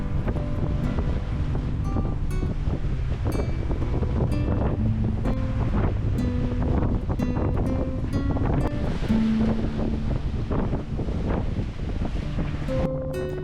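Ocean waves surge and crash amid constant gusty wind buffeting the microphone at sea aboard a sailboat, a loud, rough roar with no speech.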